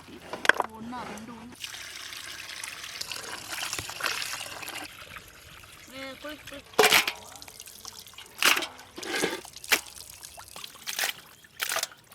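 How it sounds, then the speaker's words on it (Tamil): Water pours and trickles over chicken pieces rinsed with vinegar in a kitchen, with splashy bursts and sloshing between quieter stretches, alongside talk. "வினிகர் ஊற்றி அலசிக்கலாம்"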